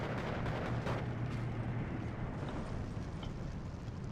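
An anti-tank gun round and tank explosion in the Steel Division 2 war game, a dense, rumbling boom-heavy mix that sits loud and continuous throughout.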